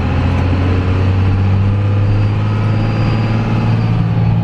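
Second-generation Cummins diesel truck with a 47RE automatic transmission driving along in drive, a loud, steady low diesel drone with constant engine hum and no gear changes.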